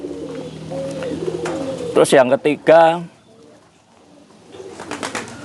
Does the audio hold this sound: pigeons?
yes